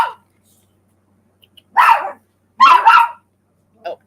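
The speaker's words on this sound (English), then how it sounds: "We have a barking fit." A dog barks in short, sharp bursts: a couple of loud barks, then a quieter yip after a pause.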